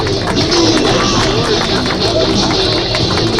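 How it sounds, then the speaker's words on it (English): Crowd at a school inter-batch football tournament applauding a best player award winner, dense sustained clapping and cheering, loud and close, lasting throughout. "A huge round of applause for Mr. Preetham as well."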